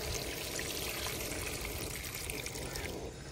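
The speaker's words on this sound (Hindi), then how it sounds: "गोभी धोने की। हाँ, थोड़ी थोड़ी करके धोऊंगी क्योंकि टोकरी छोटी है।" Water pours and splashes continuously as cauliflower is washed in a small basket in a village kitchen in Pakistan, a steady close rushing trickle with no talk.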